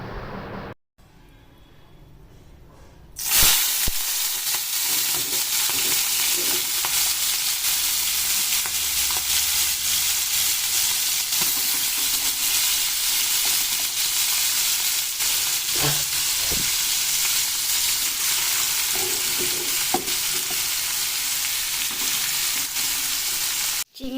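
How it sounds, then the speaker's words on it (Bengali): Fish frying in a pan in a home kitchen, a loud, steady sizzle that bursts in after a short quiet start and hisses on continuously, with occasional faint pops and spatters. "মাছটা ভাজা বসিয়ে দিয়েছি"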